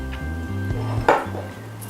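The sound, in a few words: stirring tom yum biryani masala in a pot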